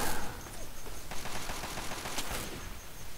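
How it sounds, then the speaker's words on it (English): Rapid bursts of gunfire from the video game Fallout 3, a loud, dense volley of shots that runs on and off for a few seconds with no voices. "But I hear gunfire"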